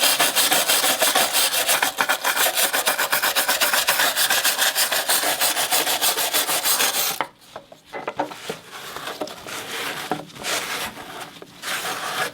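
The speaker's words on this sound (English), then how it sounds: "In scrubbing off this outer layer of rust" Rapid rhythmic scrubbing of rust off a motorcycle seat part, a dense rasping back-and-forth stroke at close range that pauses briefly then continues with more irregular, intermittent rubs.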